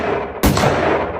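Soldiers' gunfire cracks out as one sudden, loud shot over a continuous rough, noisy background roar, with no voices.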